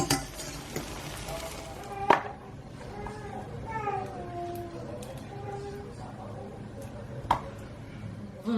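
Food sizzles steadily in a pan near the end of cooking, a soft continuous frying hiss with occasional clinks of a utensil, under a person speaking.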